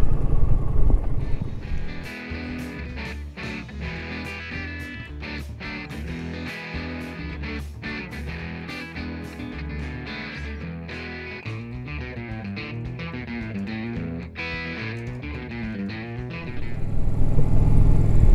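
An off-road motorcycle opens up on a wide, muddy dirt trail along a riverside. Its engine drones loud and close, rising and falling as the rider accelerates, with wind buffeting throughout.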